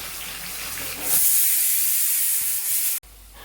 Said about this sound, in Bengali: এদিকে মাছের মাথাগুলো ভালো করে আগে ভেজে নিই